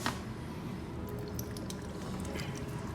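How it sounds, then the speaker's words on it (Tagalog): Cold tap water running into a sink to rinse microwave-boiled eggs, a steady close splashing pour with a few drips, no talk. "Hugasan ng malamig na tubig"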